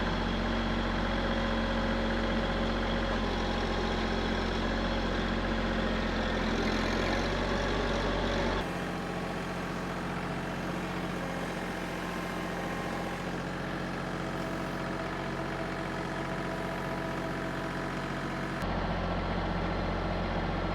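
A 24 horsepower tractor engine idles steadily on a hay field with round bales, a low continuous rumble that holds for the whole stretch with a brief shift in tone partway through.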